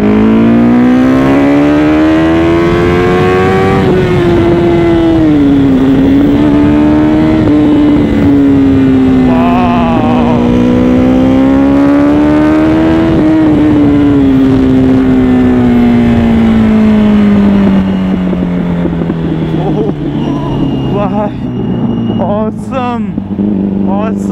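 An older Yamaha R1 sport motorcycle engine revs hard in first gear, its loud, close whine rising and dipping through repeated throttle surges before easing down in pitch.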